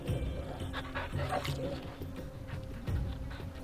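Torgal, the wolf dog in Final Fantasy 16, pants in quick rhythmic breaths, fairly faint and close, with soft whimpers and footstep-like game sounds around it.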